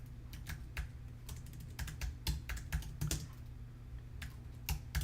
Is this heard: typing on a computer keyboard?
yes